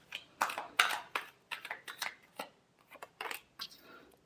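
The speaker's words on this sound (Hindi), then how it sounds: "लास्ट शफल, सॉरी ये शफल के बाद देखते हैं।" Tarot cards being shuffled by hand, a run of crisp papery riffles and slaps in irregular bursts, close and fairly quiet with no talking.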